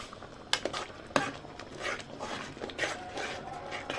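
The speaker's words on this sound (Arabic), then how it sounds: "وهننزل بقى بالتقليب" A spoon stirring a pot of milk with starch and whipped cream, soft scraping and occasional clinks against the pot, steady and close with no talk.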